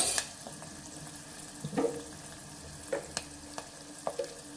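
Turmeric and curry leaves fry gently in oil for a bendakaya pulusu (okra tamarind curry), a soft, low sizzle broken by several sharp spoon and pan clicks.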